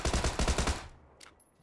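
Burst of rapid automatic gunfire in PUBG on the Erangel map, about eight quick close shots in steady rhythm lasting under a second, then a faint distant pop and quiet tail.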